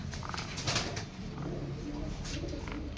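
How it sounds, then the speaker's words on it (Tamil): A pigeon coos in a backyard coop where the birds sit to lay eggs, a steady soft cooing over a constant outdoor hiss. "இது ஒரு சைஸ் புறா வருது புறா முட்டை வைக்கிறதுக்கு உட்காந்துக்குது"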